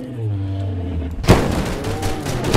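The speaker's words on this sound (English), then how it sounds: "get ready to shoot the canister" Gunfire in a video game aimed at a canister: after a quiet hum, a sudden loud burst of rapid shots erupts and continues as a crackling fusillade to the end.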